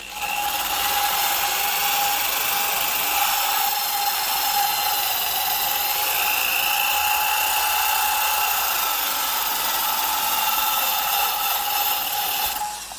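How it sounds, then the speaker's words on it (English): Variable speed drill spinning a nylon abrasive clean-up wheel against a bolt, a steady high-pitched whine with a gritty rubbing hiss, continuous and close, no talk. "Kind of nice to use a variable speed drill too"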